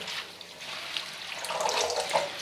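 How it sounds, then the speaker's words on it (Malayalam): Freshly picked thazhuthama leaves being washed in water, a continuous close splashing and trickling like a running tap over a basin, with no speech. "ഇത് പറിച്ചെടുത്ത് ഇത് വെള്ളത്തിലിട്ട് നന്നായി കഴുകി"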